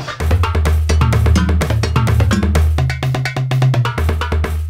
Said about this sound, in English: The more I push this pad, the more the sound gets bent.